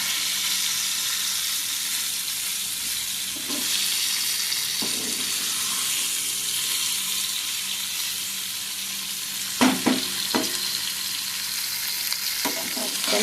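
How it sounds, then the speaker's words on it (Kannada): Masala for mutter paneer frying in a pan, a steady sizzle running throughout with a few louder stirring scrapes and clinks near the end, close and alone with no voices. "ಫ್ರೈ ಮಾಡುವಾಗ ಚೆನ್ನಾಗಿ ಮೆಲ್ಲಗೆ ಮಾಡಿ."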